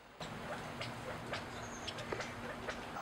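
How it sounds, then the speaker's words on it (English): Faint, scattered short California quail contact calls sound at a distance over a steady hum, spaced irregularly across a few seconds. "start to call each other back together with contact calls, which sound like this."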